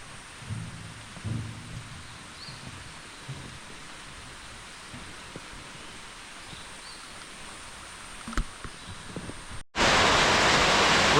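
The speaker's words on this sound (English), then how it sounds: "It is raining in the rainforest." Forest ambience in a Sabah rainforest on Borneo stays quiet for several seconds with faint rustles. Then a loud, dense hiss of rain abruptly swells and fills the final stretch.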